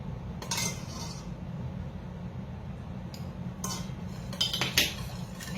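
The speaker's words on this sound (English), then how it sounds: "And I'm stirring it up." A spoon clinks against a bowl or pot while stirring fresh ginger into a red algae sea moss mixture for gummies, a few soft scrapes and clinks over a steady low hum.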